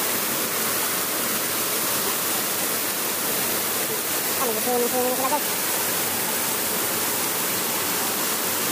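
A powerful waterfall roars in a constant, loud rush, and someone speaks briefly over the torrent midway.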